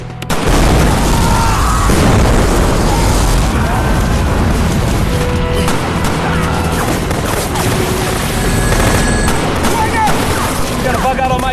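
Movie battle scene in which napalm is set off: a sustained loud roar of blasts and crashing debris fills the whole stretch, with gunfire-like cracks mixed in.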